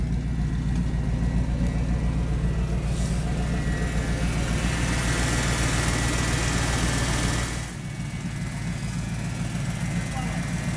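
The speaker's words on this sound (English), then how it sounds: "Has that power steering whine too." A Ford F250 pickup idles near at hand with a steady low engine drone and a thin power steering whine over it, the level dipping slightly partway through.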